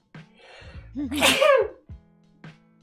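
A single loud human sneeze bursts out close to the microphone, preceded by a short sharp intake of breath and followed by brief quiet vocal sounds.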